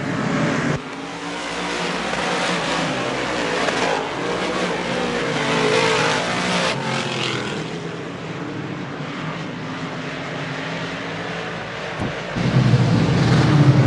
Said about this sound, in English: In through 3 and 4, Fast Freddy still your race leader